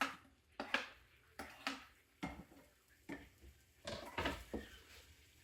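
Garlic and onions tumble into a cooking pot for a budget Thanksgiving dinner, giving a series of close, soft thuds and clatters with light utensil scraping, spaced irregularly with no talk.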